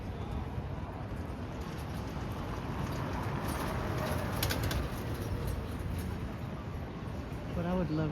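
A pigeon coos from its perch on a light in a busy outdoor spot below a hilltop castle, soft and low beneath steady crowd bustle and nearby people talking.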